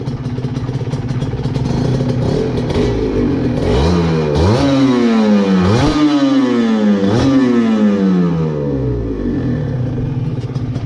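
A Honda NSR 150 SP motorcycle engine runs close and loud, idling with a raspy two-stroke buzz and then blipped through several rising and falling revs in a row.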